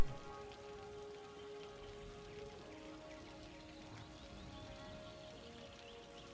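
Steady rain falls in the city-building game Cities: Skylines, a soft, even patter that holds at a constant level from start to finish with no voices over it.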